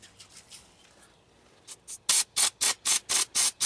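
Brake cleaner sprayed onto a brake caliper in a series of short, sharp hissing bursts close by, each about a quarter second long, after a few faint rustles and clicks; no talking.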